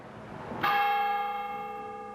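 A church bell at St. Matthew's Lutheran Church in Dubuque, Iowa, strikes once and rings on with a long, bright, slowly fading hum over quiet background.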